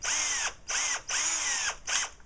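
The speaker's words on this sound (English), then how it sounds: "to put a drill bit in here and get the chuck up to it really fast, you just hit it going forward" A cordless power drill runs its chuck forward in four quick whirring bursts separated by brief pauses, close and fairly loud, with no talk.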